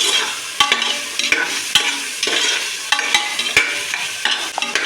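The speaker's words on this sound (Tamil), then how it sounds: "சின்ன வெங்காயம் நான் போடுறேன் ஓகே இதை நல்லா கிண்டிக்கலாம்" Small shallots sizzle steadily in a pan of hot oil for a vegetable biryani, while a spoon stirs and scrapes through them in a series of sharp, close clacks over the continuous frying hiss.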